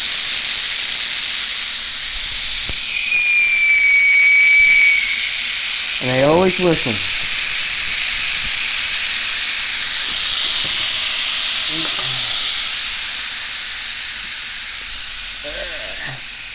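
Air rushes from a tire valve stem with the core pulled out, a loud, steady hiss close by that tapers off slowly, with brief speech and a few clicks over it.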